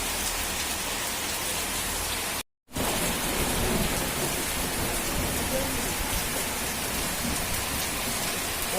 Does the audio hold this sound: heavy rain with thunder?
yes